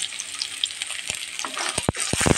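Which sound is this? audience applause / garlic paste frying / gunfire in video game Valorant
garlic paste frying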